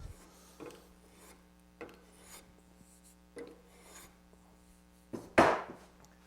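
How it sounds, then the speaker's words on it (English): A card scraper works across an end-grain wooden cutting board to clean off table saw marks, making rough rasping strokes, four or five, spaced about a second apart, close up, with the final stroke loudest. "Use a card scraper."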